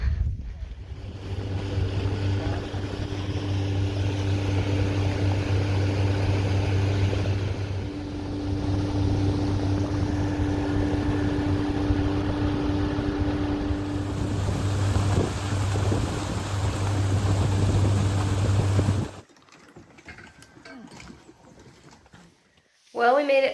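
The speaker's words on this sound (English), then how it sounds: "we made it across the lake on the motorboat" A motorboat crosses a lake in the mountains of northern Sweden, its engine a steady low drone with wind buffeting the microphone and water rushing alongside. The drone runs continuously and then stops abruptly near the end.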